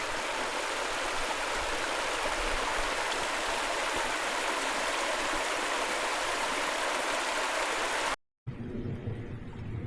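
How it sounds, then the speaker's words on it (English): A flowing stream in a hidden spot in the Peak District rushes steadily and fairly close, a continuous broadband wash of water that cuts off abruptly near the end, leaving quiet background. "Lovely flowing stream."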